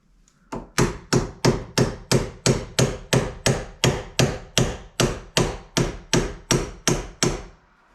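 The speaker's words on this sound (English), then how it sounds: "I'm going to go ahead and chisel out around the top there" Hammer striking a chisel to cut out around the top of an interior door frame: about sixteen sharp, evenly spaced metallic-wooden blows in a steady rhythm, close and loud, with no talk.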